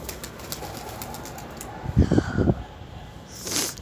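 Pigeons in a loft give a short cluster of low, soft coos midway, with faint rustling and a brief rising bird call near the end over a steady quiet background.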